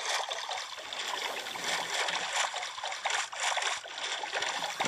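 Steady wash of water sloshing and trickling while moving across an ocean in Minecraft, a continuous close bed of splashy noise with no pauses.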